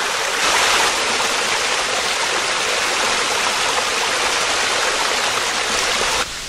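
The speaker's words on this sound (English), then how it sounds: "I do believe I hear a waterfall" A steady, loud rush of a small waterfall and flowing stream on a forest trail in Worlds End State Park, Pennsylvania, continuous and close, with no voices.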